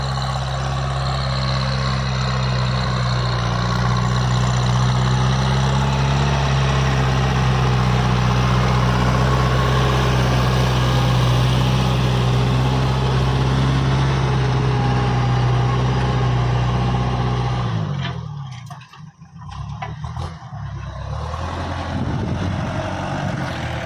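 A Kubota M5000 tractor engine idles with a steady, loud low rumble and constant tone for most of the clip, then the engine note drops away abruptly near the end before a rough noise resumes.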